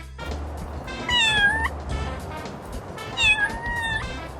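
A cartoon cat in the indie game Little Kitty, Big City lets out two distinct drawn-out meows a couple of seconds apart, clear and close over quiet ambient game sound.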